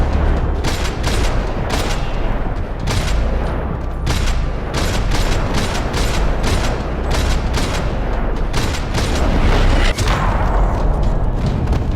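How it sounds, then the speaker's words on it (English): Dense gunfire echoes through a parking lot in the video game Max Payne 3: loud, rapid bursts and single shots crack one after another without pause, with booming reports underneath. "Another parking lot rattling with gunfire."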